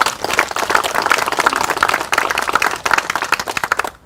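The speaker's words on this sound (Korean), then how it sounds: "다시 한번 큰 박수 부탁드립니다." Loud, close applause from attendees at a memorial ceremony for fallen special forces soldiers at Seoul National Cemetery, brisk continuous clapping with a brief break midway.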